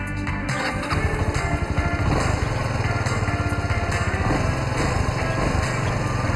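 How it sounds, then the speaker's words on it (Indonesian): Kawasaki Estrella W250 motorcycle with its original exhaust and under 10,000 km, idling close by with a steady low, fast-thumping single-cylinder beat that rises slightly after the first second and holds constant. "Biasanya kalau knalpot udah berumur,"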